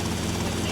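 A helicopter in GTA Vice City gives a loud, steady rotor drone, close and continuous, with a low engine rumble underneath.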